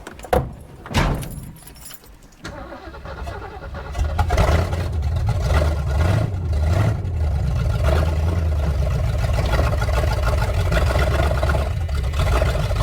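A 1973 Ford Mustang Mach 1 engine cranks and catches after a few seconds, then settles into a steady, loud, rumbling idle that runs on without a break.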